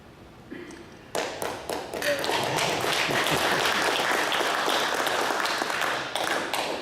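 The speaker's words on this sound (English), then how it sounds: "started that applause himself" After a second of quiet room tone, applause from a lecture audience bursts in and swells into dense, steady clapping that carries on to the end.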